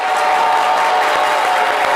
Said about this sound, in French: Merci d'applaudir très fort Laurent Segui.